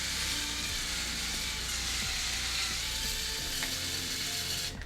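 Razor blades dragging through stubble with only a thin layer of shaving cream, a steady close scraping and crackling that runs continuously and loudly, with no talking.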